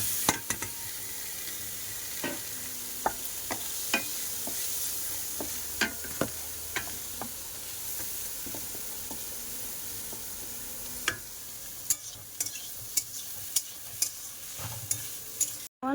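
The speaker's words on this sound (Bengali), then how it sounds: "এখন এই ডালটা ভেজে নেব" Dal fries in a wok with a little oil, a steady low sizzle broken by frequent sharp clicks and scrapes of a spatula against the pan, close and without speech.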